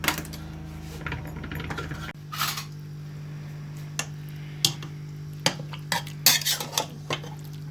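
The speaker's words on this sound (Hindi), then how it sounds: "इनको हम कुकर में डालेंगे।" About three kilograms of carrots for gajar ka halwa are tipped into a metal pressure cooker, giving scattered hard clunks and knocks against the pot, loudest in a cluster near the end, over a steady low kitchen hum.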